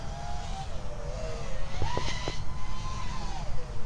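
RealAcc Real2 FPV racing drone motors whining at full throttle, a steady high buzz whose pitch sweeps up and down as the quad maneuvers, with brief sharper bursts midway; close and fairly loud throughout.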